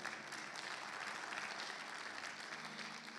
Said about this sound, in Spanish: Contenle un fuerte aplauso al Señor,